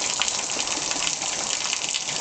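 Heavy rain pouring down in a steady, dense wash of noise with no breaks, loud and close throughout, with no voices heard.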